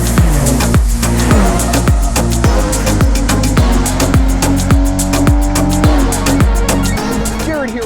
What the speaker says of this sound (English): we are driving the more powerful M240i version